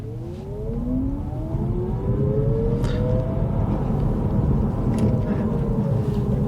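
2023 Chevy Bolt EUV electric car accelerating in sport mode, a rising whine of the electric motor climbing in pitch over road and tyre noise, fairly loud and continuous.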